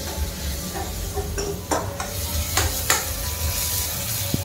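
A spoon stirring eggplant bhaji in a sizzling pan, with scraping clinks against the pot over a constant frying hiss, close and moderately loud.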